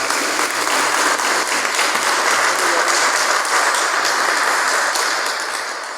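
A room audience gives loud, sustained applause to welcome a family therapist, dense clapping holding steady for several seconds before easing slightly at the end.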